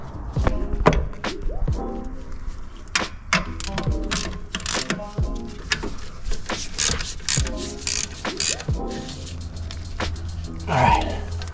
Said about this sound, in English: I'm gonna put the alternator bolt on now.